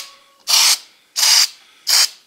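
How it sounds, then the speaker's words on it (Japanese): KURE Chassis Coat Clear water-based rust-proofing spray applied to the underside of a Honda Life JC1: three loud, steady hissing bursts of about a quarter second each, evenly spaced with short gaps, close to the can. "普通にスプレーで塗っていくだけですね。"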